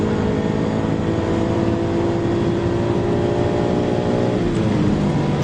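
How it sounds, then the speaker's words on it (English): A car engine on the German Autobahn holds a loud, high sustained rev, a steady droning whine that runs the whole stretch with no voices. "How high does this thing rev?"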